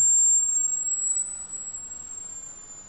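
A thin, steady high-pitched sine tone whines on without a break over faint background hiss, fading slightly as it holds.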